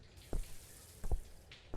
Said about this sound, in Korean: 저기 막 피가 떨어져요.